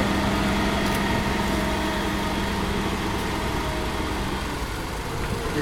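Mercedes-Benz Unimog engine pulling in four-wheel drive with the rear differential locked on a demonstration course in Germany, a constant loud rumbling drone with a faint steady hum, unbroken throughout.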